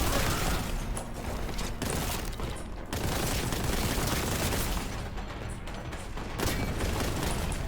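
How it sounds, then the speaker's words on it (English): Explosions and gunfire in the Warhammer 40K Boltgun shooter, a dense, loud barrage of blasts and booming impacts that runs continuously, with sharp bursts near the start and end. "Okay, that exploded right on time"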